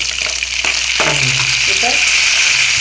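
Tomatoes sauté in a pan for pepper tomato chutney, a loud, constant sizzle close up with a few brief utensil taps and faint voice-like tones underneath.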